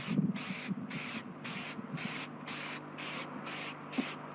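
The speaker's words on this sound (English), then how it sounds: "You just spray a thin coat on," An aftermarket headlight coating is sprayed from an aerosol can in a rhythmic series of short, close bursts, roughly eight evenly spaced hisses separated by brief pauses.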